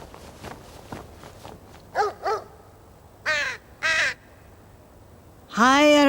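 A raven gives several loud, harsh caws in separate bursts, growing closer and louder toward the end, with soft footstep-like thumps between them.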